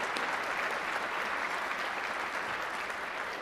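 School honor band concert audience applauding Mr. Portillo, a steady, dense wash of clapping from a large crowd with no talk.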